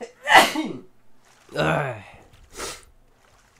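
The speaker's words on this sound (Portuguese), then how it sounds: "Vou ter que espirrar de novo." One sharp, close sneeze bursts out loudly, followed by a drawn-out voiced groan and a shorter breathy exhale from the same person.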